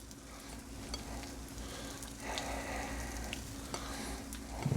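A pizza grilled cheese sandwich with pepperjack and sharp cheddar sizzles on a griddle, a steady low hiss with soft crackles, growing slightly louder toward the end.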